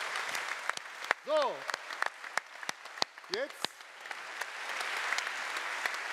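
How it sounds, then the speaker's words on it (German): Sparse, distinct hand claps ring out at a Pride reception, scattered and uneven rather than a full ovation, with a few short voiced sounds and a brief spoken phrase among them. "da muss jetzt auch mal ein großer Applaus sein"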